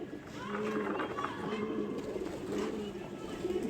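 Pigeons coo steadily through a morning flight session at a rooftop loft, layered low and continuous alongside a faint background voice.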